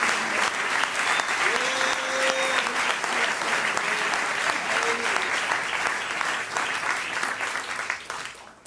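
A church congregation gives a loud, sustained round of applause that fills the room, with scattered cheers and voices rising through the clapping before it tapers off at the end.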